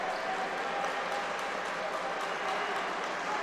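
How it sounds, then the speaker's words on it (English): Steady applause from a team bench and its fans in a gym during a men's college volleyball match, a continuous wash of clapping that holds at an even level throughout. "Now the Yellow Jacket bench and their fans are clapping"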